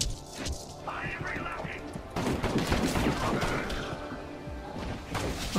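Gunfire in a VR shooting game against alien pirates: a rapid burst of shots and impacts, close and fairly loud, with a player's excited voice over the top.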